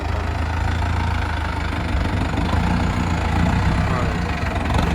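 A tractor engine idles steadily and close by while it is being positioned during a karah land-leveller range adjustment, a continuous low rumble running throughout under occasional voices.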